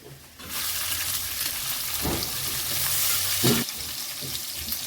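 Green chillies and crushed garlic fry in hot oil with a steady loud sizzle, broken by a couple of stirring scrapes in the pan; no talking.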